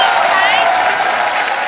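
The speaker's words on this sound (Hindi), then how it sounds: "और श्रद्धा कपूर और अर्जुन कपूर के लिए जोरदार तालियां।" Studio audience applause at a Hindi comedy show, a dense, steady wash of clapping that stays loud and even throughout, with crowd noise mixed in.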